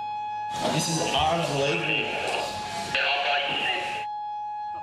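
A steady, loud electronic alarm siren at a crowded Sydney beach during a shark warning drones continuously under excited speech from a man.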